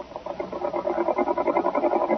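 A knee-lever-operated sewing machine runs with a steady, fast mechanical whirring and rhythmic pulsing chatter, close and continuous with no voices over it.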